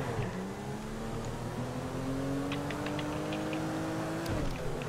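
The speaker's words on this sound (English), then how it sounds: "I'm driving in first person" A car driven in first-person view in the video game GTA V Online, with a steady engine drone whose pitch slowly climbs and shifts as it accelerates, continuous and moderately loud throughout.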